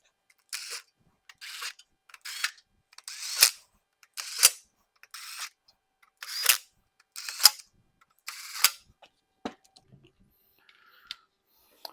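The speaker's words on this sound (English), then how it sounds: "So we're going to go ahead and get these tightened down and get them torqued." Torque wrench tightening the oil pan bolts on a 6.0 Powerstroke diesel engine: about nine short, sharp click bursts in a steady rhythm, close and moderately loud, then quiet.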